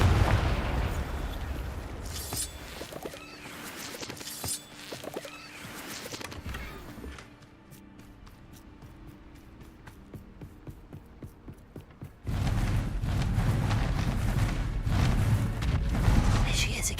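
A Confringo fire spell from Hogwarts Legacy bursts in loud blasts and booms amid game sound, then a quieter stretch of rapid crackling, before heavy rumbling noise swells back in.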